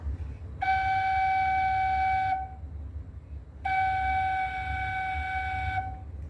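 Two long sustained la notes on a Thai khlui flute, each held about two seconds with a pause between, steady pitch over a low background hum.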